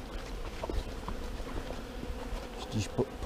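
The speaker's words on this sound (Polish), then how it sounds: "Pogoda się poprawiła i te pszczoły latają." Honey bees fly around their hives after the weather clears, a steady close buzzing drone with individual insects passing nearby and briefly louder near the end.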